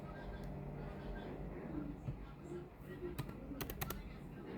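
Typing on a computer keyboard, a few quick sharp key clicks clustered near the end, faint under a steady background hum.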